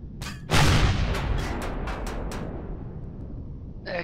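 A turret being destroyed in the space game Empyrion, a heavy explosive boom followed by a rumbling tail and a series of sharper bursts, with another blast beginning at the end.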